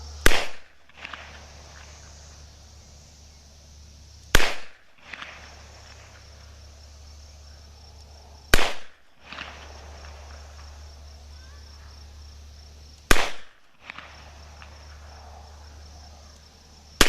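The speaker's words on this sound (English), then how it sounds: "these are hot loads. We'll shoot them right now" Four sharp, loud shots from an older Taurus 66 revolver firing hot handloaded rounds, evenly spaced about four seconds apart, each a brief crack followed by a short echo over outdoor insect chirping.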